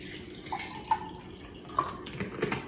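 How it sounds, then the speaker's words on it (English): Cranberry juice trickles and drips into a cup with a few bright plinks, close by and fairly quiet. "let me pour me up some cranberry juice"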